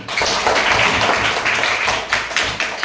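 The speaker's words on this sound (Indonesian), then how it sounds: "Tepuk tangan untuk kita semuanya" Applause from a group of children in a school lesson fills the space, dense irregular clapping at steady strength, close by, with no one speaking over it.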